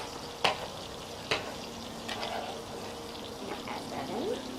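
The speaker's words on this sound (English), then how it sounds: "hear probably that it's sizzling pretty good in there" Chopped cilantro frying in a pan, with a soft, steady sizzle running under a few sharp clinks of a utensil against the pan, fairly quiet overall.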